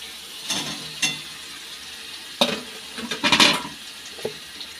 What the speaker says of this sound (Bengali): মশলাটা কষানো হয়ে গেছে, দিয়ে দিচ্ছি পনিরটা।